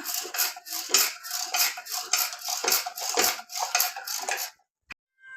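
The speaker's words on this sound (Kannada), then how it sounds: "ಸೌಟಲ್ಲಿ ಚೆನ್ನಾಗಿ ಮಸ್ಕೊಂಬಿಡಿ ಆದಷ್ಟು ಚೆನ್ನಾಗಿ ಬ್ಲೆಂಡ್ ಆಗುತ್ತೆ ಅಂದರೆ ಮಸಿಯುತ್ತೆ ಇದ್ರಲ್ಲಿ ಮಸ್ಕೊತ ಇದ್ದೀನಿ ಈಗ" A ladle repeatedly knocks and scrapes inside a pot while mashing cooked berike greens for a village-style soppu dish. The clanks are close and busy, then stop, leaving one last clink near the end.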